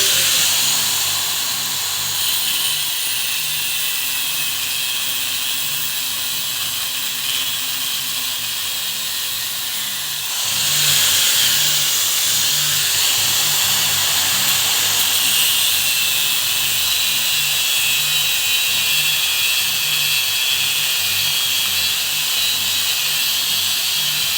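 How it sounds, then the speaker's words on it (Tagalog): An angle grinder cuts overhead steel, its high, harsh whine running loud and continuous for the whole stretch and getting slightly louder and brighter partway through as the disc bites harder. "yung tamang pangalan ng pagkat ng grinder para may wasan natin lagi yung disgrasya"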